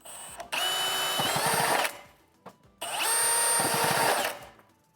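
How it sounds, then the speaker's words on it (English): Power drill with a step bit boring two holes in sheet metal for a Lindab duct outlet installation, two loud whirring bursts of about one and a half seconds each, with a short pause between them. "Now we've got a step bit here. We're going to drill 2 holes."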